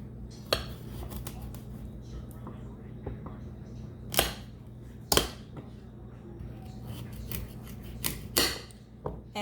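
A knife cuts baby carrots in half on a board, producing several sharp crisp chops spaced a second or two apart over a quiet room background.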